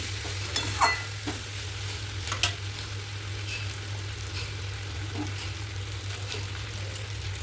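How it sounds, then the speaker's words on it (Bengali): Tomatoes being stirred in a frying pan while cooking a papaya and rohu fish curry, a soft continuous sizzle with a few scraping stirs early on and a low steady hum underneath. "দিয়ে দিচ্ছি টমেটো, ভালো করে নেড়ে নিলাম।"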